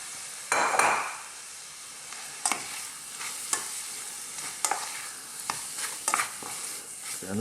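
Cold basmati rice and pork are stir-fried in a pan, giving a soft steady sizzle broken by several sharp scrapes and clanks of a utensil against the metal, close and alone.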